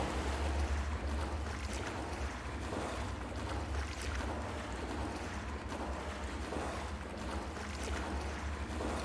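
Wading through water in the horror game Dark Echo: a steady, dense wash of sloshing, rushing water noise with a low rumble. It continues unbroken and fairly quiet, with no voices.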